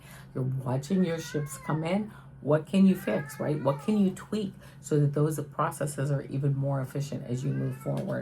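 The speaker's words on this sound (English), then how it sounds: "Oh, that's my cat" A pet cat meows close by, several plaintive cries overlapping steady talking from a person indoors.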